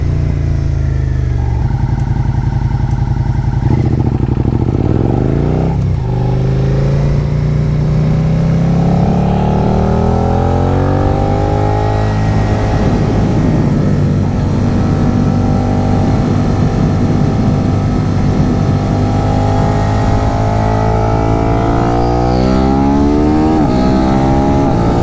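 A Suzuki SV650 motorcycle engine revs while riding, loud and close throughout, with the pitch rising and falling as it accelerates and shifts, steady engine roar with no voices.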